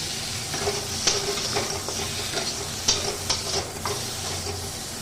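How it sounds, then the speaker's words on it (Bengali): Prawns fry in a little hot oil in a wok with a constant close sizzle, broken by scattered scrapes and clinks of stirring. "এবার আমি যে কড়াইতে সামান্য তেল আছে এই তেলের মধ্যে চিংড়ি মাছটাকে সাঁতলে নেব"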